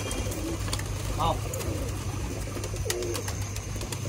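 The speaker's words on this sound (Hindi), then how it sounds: "कबूतर दिख रहा है" Pigeons coo in a couple of brief low warbling calls, with a voice calling out nearby and scattered clicks over a steady background hum.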